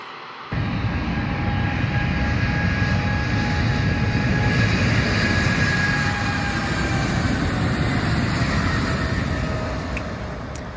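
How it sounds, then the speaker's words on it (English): Boeing 777-200 airliner of Iraqi Airways, played back as a recording: a steady, loud jet engine roar with a whining tone on top, holding level for about ten seconds before easing slightly at the end, with no voices. "Here's a 777-200 for you."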